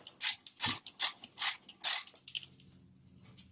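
Hand ratchet snugging the brake caliper bolts on a 2011 Kia Sportage, giving a quick run of about a dozen sharp clicking strokes close up that slow and fade toward the end.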